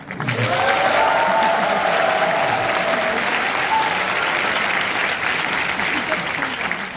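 A large congregation at a March 1st memorial worship service in a church gives loud, sustained applause that continues evenly for several seconds.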